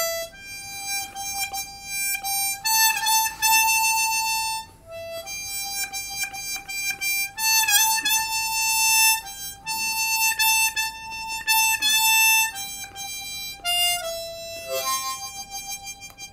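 A harmonica plays a melody alone. Its clear, reedy tones are held through each phrase and waver with vibrato at the phrase endings, with brief pauses between phrases.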